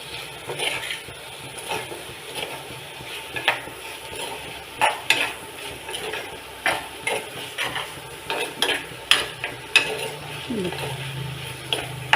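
Ivy gourd mezhukkuvaratti being stirred and mixed in a pan, with repeated scraping and clacking of the utensil against the pan over a low sizzle, steady and close, with no talking.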